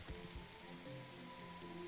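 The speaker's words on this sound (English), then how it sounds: "Oh, it's raining." Rain falling in the city-building video game The Universim, a soft, steady patter of drops heard faintly beneath low tonal game music.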